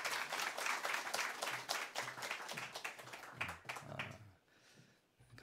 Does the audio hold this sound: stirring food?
no